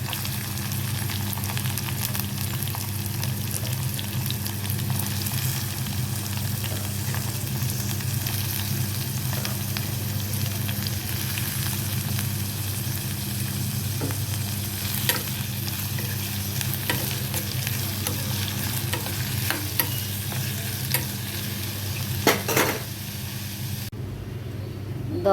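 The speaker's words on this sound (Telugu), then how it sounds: "పచ్చిమిర్చి ముక్కలు వేసుకుంటున్నాను" Chopped onion and green chilli pieces fry in hot oil with mustard seeds, giving a loud, steady crackling sizzle close by for the whole stretch, with occasional spattering pops and no talking.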